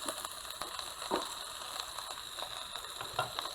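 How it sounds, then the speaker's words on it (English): Onions sautéing in olive oil for a green eggplant stir-fry, giving a soft, steady sizzle with faint crackles throughout, close but low in level. "Let's start sautéing onions now. I'm using olive oil here"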